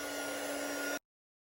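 Heat tool blowing steadily while setting gold embossing powder on card, a loud continuous whirring rush that stops abruptly.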